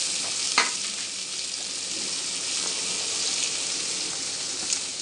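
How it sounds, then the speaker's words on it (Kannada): Onions fry in a pan with a steady, bright sizzling hiss for an egg curry, while a spoon stirs them with an occasional scrape. The sound stays close and continuous, with no talking. "ಆನಿಯನ್ ಬ್ರೌನ್ ಕಲರ್ ಬರೋವರೆಗೆ ಸ್ವಲ್ಪ ತಿರುವಿ"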